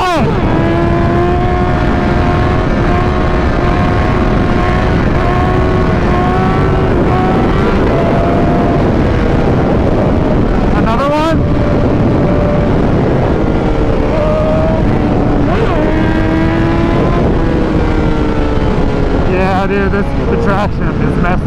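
A Honda CBR1000RR accelerating hard on a ride, engine pitch climbing through repeated gear changes, very loud and close under heavy wind rush, with a rider talking over it.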